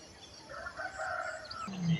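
A rooster crows at a Thai temple, a drawn-out call that rises over a faint outdoor background with no speech.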